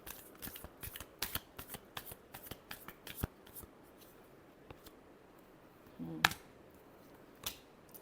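Tarot cards being shuffled by hand, a quick run of soft, crisp riffling clicks that thins out into a few separate taps, close and fairly quiet.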